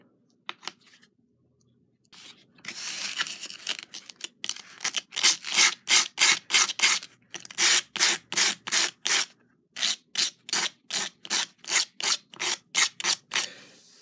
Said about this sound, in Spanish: lijarle todas las orillas